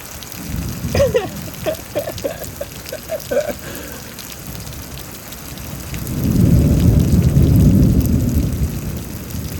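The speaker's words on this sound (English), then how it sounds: "I mean, angry deity thunder." Thunderstorm in Houston, Texas, with steady rain and a deep, swelling rumble of thunder that builds and rolls loudly through the second half, after scattered brief sounds early on.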